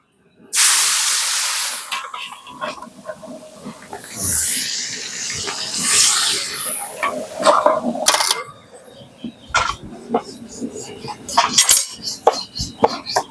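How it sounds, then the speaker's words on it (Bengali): A fish head drops into hot oil in a wok with a sudden loud hiss that holds as a strong sizzle, then breaks into crackling spatter and clattering utensil sounds as it settles. "মাছের মাথাটা ভেজে নেবো"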